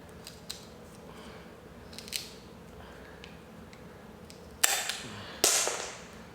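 Gartol miter shears slice through PVC moulding, giving two sharp, close snipping cracks near the end after faint handling clicks and rustles in a quiet room.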